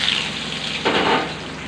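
Chopped onions dropped into hot oil with bay leaves and cumin for chilli paneer: a loud, steady hiss of frying that swells briefly as the onions hit the pan, with no voices.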